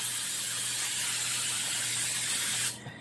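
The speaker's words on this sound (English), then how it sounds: "you just spray it real good" A continuous hissing blast of aerosol cooking spray, close and steady for almost three seconds before it cuts off abruptly.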